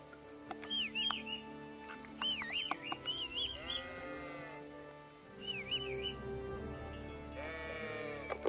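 Sheep in Kingdom Come: Deliverance giving several wavering, tremulous bleats, loud and close, with pauses between calls over a faint background hum.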